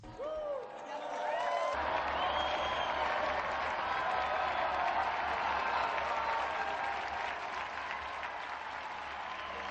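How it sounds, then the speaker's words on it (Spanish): Sustained applause on a Catholic missionary radio broadcast: a dense, even crowd clapping that swells in after a brief opening and continues steadily for several seconds with no talk. "brindemos nuestro más cálido aplauso a San Casimiro de Polonia."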